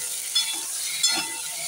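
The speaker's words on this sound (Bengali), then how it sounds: "আলুটা ভেজে নেবো সবজির সাথে ভালোভাবে।" Boiled potatoes, vegetables and green chilli sizzle in a pan with a little oil, a soft steady hiss with a couple of brief louder spatters.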